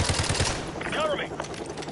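Automatic gunfire from the Modern Warfare 2 remake, a quick rattling burst of rapid shots that cuts off as the magazine empties, followed by game ambience and faint chatter.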